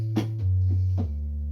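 A pipe organ's 8-foot pedal stop sounds alone, a steady low sustained bass note that steps down to a new pitch partway through, with soft overlapping manual tones above it, close and fairly loud.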